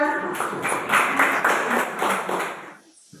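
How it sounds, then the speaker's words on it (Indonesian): Classroom applause for a presenting student group, a burst of many hands clapping at a quick irregular rhythm, moderately loud, then fading out toward the end. "Tepuk tangan untuk kelompok 2."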